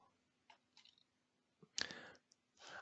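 Mouse clicks on Export All in Microsoft Forms, a few faint scattered clicks in a quiet room, followed by a louder burst of clicking and rustling near the end.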